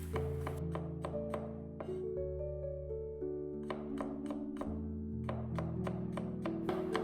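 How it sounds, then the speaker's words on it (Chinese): A knife slices peeled garlic thinly on a cutting board, giving quick, evenly spaced taps in short runs over soft background music. "先切成薄片。"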